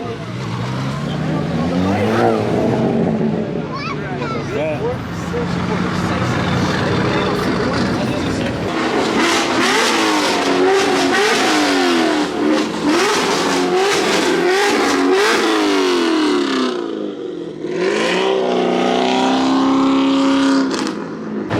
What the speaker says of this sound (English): There goes that single turbo M3.